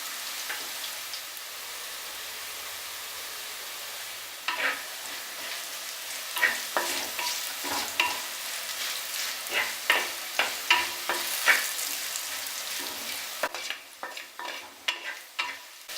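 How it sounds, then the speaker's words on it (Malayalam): Onions sautéing in a pan for Kerala-style duck curry, a steady sizzle broken by repeated scraping stirs that grow busier and louder, close by with no talk. "ഉള്ളിയൊക്കെ പാകത്തിന് വഴന്നിട്ടുണ്ട്"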